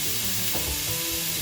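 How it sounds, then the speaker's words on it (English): Chopped onions hit a hot pan for bacon pasta carbonara, a loud, dense, continuous sizzle filling the whole moment with no voices. "There goes the onion."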